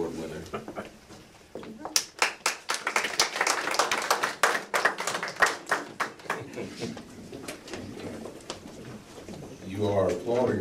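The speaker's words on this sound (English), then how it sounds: "You are applauding like you already know what you're going to get." Audience at a 2012 Circle City Classic press conference applauding an award winner, with clapping that swells between roughly 2 and 6 seconds, then thins out and gives way to talk.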